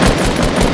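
Rapid automatic gunfire in the video game Fortnite, a dense, loud, continuous burst of shots very close up that fills the whole short moment.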